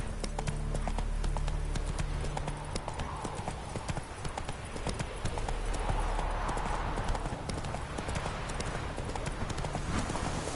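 Roach, the horse from The Witcher 3, trots with a fast, steady clip-clop of hooves, close and continuous, with a brief spoken word over it.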